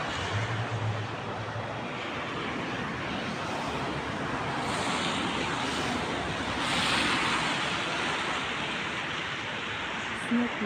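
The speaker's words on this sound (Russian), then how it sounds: "Снег метет и метет." Steady broadband wind gusting through a snowy May snowfall in Moscow, a continuous airy rush and hiss with slight swells, loud and close with mic buffeting and no clear voices.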